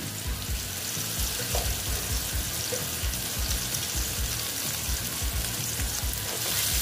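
Potatoes coated with turmeric frying in a pan, a loud, dense, close sizzle with a bubbling texture that continues unbroken and swells slightly at the end, with no talking.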